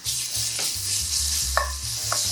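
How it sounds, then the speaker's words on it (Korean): Minced garlic frying in about two spoonfuls of canola oil as the base for a Korean anchovy stir-fry, giving a steady, close sizzling hiss with a few soft stirring clicks and a low rumble underneath. "마늘이 살짝 볶아지면 불을 줄여주세요."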